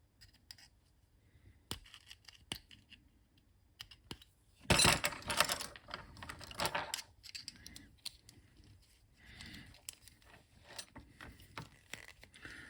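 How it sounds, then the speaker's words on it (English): Wire cutters snipping wires off a TS1500 computer circuit board during a video mod, giving a few sharp close clicks and snaps, with one louder burst of handling noise partway through and no talking. "Just cut the wires off."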